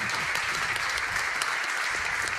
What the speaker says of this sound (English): clapping it up